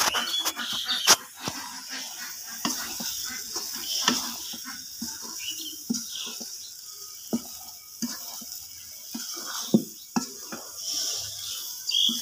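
Dried shutki fish frying in a pan, a continuous crackling sizzle dotted with frequent sharp pops and spoon taps, with faint background sounds.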